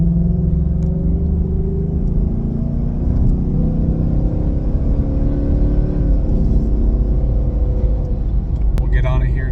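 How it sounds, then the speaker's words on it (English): 2024 Mustang GT with resonator delete, headers and X-pipe accelerating moderately onto a highway, recorded inside the car as a steady deep exhaust rumble that climbs gradually in pitch, loud and continuous. "We're gonna get a nice, easy, moderate acceleration onto the highway"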